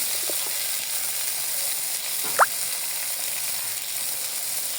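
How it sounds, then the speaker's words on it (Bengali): Chili, ginger, garlic and cumin paste fries with salt in a pan, giving a steady soft sizzle with one brief scrape or clink, close and without talk. "আমরা এখন মশলাটা কষিয়ে নেব।"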